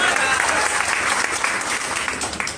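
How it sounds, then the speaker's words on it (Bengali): Audience applause at a gathering, a dense burst of clapping from many hands that holds steady and close for a few seconds, with a voice faintly underneath. "হাততালি দেন।"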